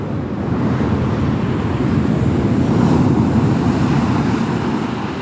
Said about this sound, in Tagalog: Grabe lakas ang alon, no?